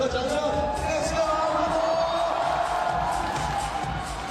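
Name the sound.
audience cheering and clapping at climbing final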